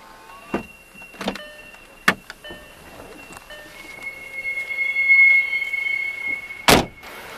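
Electric windows of a 2008 VW Beetle 2.5 hatchback humming as they move, a steady whine lasting a couple of seconds, framed by several sharp clicks and thumps from the switches and door area, close and clear.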